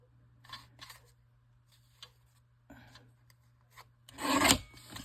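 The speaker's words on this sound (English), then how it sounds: "So we will cut it about right there." Small rasping cuts from a little cutter close by: a few short scraping snips, faint pauses between, then a louder sustained rasping cut near the end.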